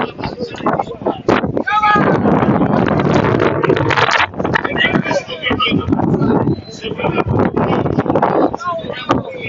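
Heavy wind buffeting the microphone at an outdoor Eccellenza Sicilia football match, Supergiovane Castelbuono against Geraci: loud, continuous rumbling gusts that rise and dip, with faint crowd sound beneath.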